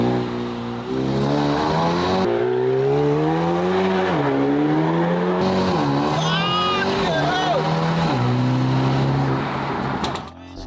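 A rebuilt, previously wrecked 2020 Mercedes A35 AMG being driven, its engine note rising and falling steadily with revving and shifts, with music or voices layered over the engine throughout.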